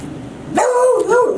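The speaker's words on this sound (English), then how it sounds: "He's got his dog." A dog gives a loud, close, drawn-out bark that bends into a whining yelp, standing alone over a quiet background.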